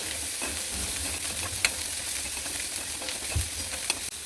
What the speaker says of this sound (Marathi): हे थोडं मिडियम गॅसवरती फ्राय करून घ्यायचं ही बघा मी अर्धी कोथिंबीर या स्टेजला घालणार आहे